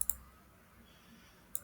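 A computer mouse right-click on a taskbar icon makes a short, faint click pair at the start and another single click near the end, close and dry in a quiet room.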